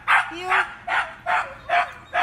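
A dog barks six times in a steady, evenly spaced series, moderately loud and slightly boxy, as if played back from an older home recording during dog obedience training.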